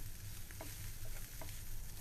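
Cauliflower with pepper sautés in a pan, a faint, steady sizzle broken by a few soft taps of stirring.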